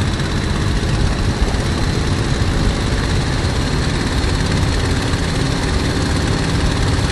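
A Messerschmitt Bf 109 fighter's propeller engine roars loudly and continuously through a takeoff run, a dense unbroken drone with no voices.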